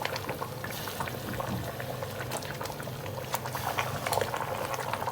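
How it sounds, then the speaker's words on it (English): Chicken methi gravy simmering in a covered pot, a continuous low bubbling burble with soft pops, moderately quiet and close, no voices. "Cover it and let it simmer for 20 minutes."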